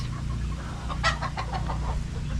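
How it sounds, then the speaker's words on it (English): Several soft clucks from chickens in a short burst around the middle, over a steady low hum of background noise. "Some chickens."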